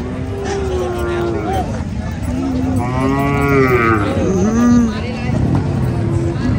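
Cattle at a livestock market moo loudly and repeatedly, several long drawn-out calls close by, with crowd chatter and market babble underneath.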